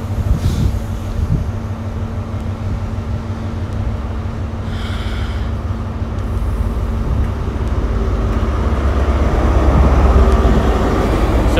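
A Class 43 HST with power car 43304 at the rear arriving at Exeter St David's; continuous low diesel drone and wheel rumble that builds gradually toward the end, with a brief higher whine midway and no voices.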